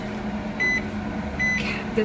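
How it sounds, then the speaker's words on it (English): A microwave oven hums steadily while heating a steamable bag of store-bought vegetables, with a soft electrical drone and a high tone that appears in two short bursts, then a brief beep near the end. "you just put them in the microwave for like 8 minutes"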